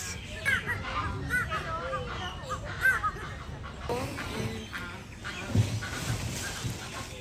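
Little penguins at a Sydney wildlife park give honking, goose-like calls in short bursts, with people talking nearby against a busy crowd background.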